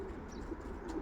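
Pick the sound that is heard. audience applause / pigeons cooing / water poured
pigeons cooing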